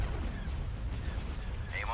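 Starship weapons fire from the space battle game Empire at War Thrawn's Revenge, with a dense rumbling barrage of booms and blasts continuing throughout and a faint sweeping tone near the end.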